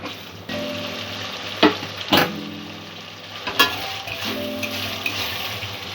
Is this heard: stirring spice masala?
yes